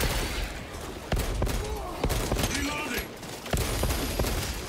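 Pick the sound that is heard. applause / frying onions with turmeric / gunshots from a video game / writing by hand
gunshots from a video game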